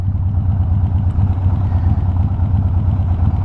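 A Harley-Davidson Sportster 883 or Honda ADV 150 engine idles with the choke on, a low, throbbing rumble and slight clatter, close by and continuous, no voices.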